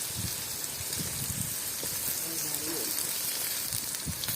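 Capsicum (bell pepper) frying in a pan while Gobi Manchurian is made, giving a steady close sizzle with a few soft clinks and stirring noises.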